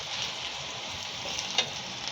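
Onions fry in a pan with a dense, even sizzle close by, broken by one brief clink of stirring near the end.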